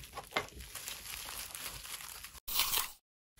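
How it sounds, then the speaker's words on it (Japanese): Plastic packaging from a magazine's bonus craft kit for papermaking crinkles and tears close by, a run of rustling and crunching that ends in a sharp rip before falling silent. "まず、この付録に入ってるものを開けていきます。"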